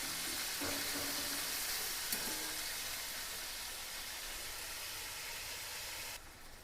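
Chicken pieces shallow frying in a pan for dum biryani give a steady, close sizzling hiss that stays even and unbroken throughout.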